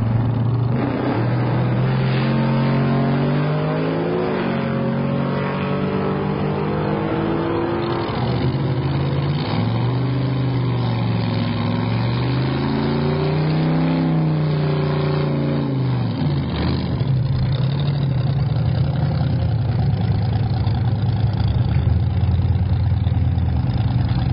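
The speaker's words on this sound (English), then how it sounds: "That's John in the 70 Chevelle." A 1970 Chevrolet Chevelle drag car's engine revs and idles at a drag racing event, loud and close, with rising and falling pitch sweeps from repeated throttle blips and no talk over it.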